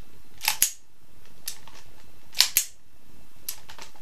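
Two quick pairs of sharp revolver shots crack out during a fast thumbing draw from a leather holster, each pair close together, with fainter clicks between them and no talk.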